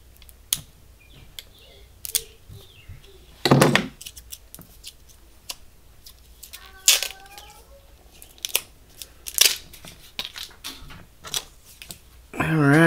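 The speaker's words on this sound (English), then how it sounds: "So, give it a little shake. Peel the label off here." A bottle of Brain Burner hot sauce is shaken, then its label is peeled off, giving short close rattles and a few sharp tearing scrapes between stretches of talk.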